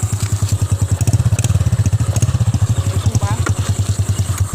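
A Honda 110i motorcycle engine runs close up, with a loud, rapid, regular thumping putter from a slightly uneven idle that quickens briefly, as someone talks over it.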